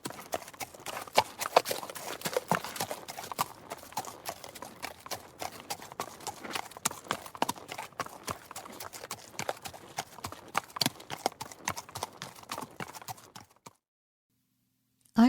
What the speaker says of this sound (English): let's mount up. The horses are out there waiting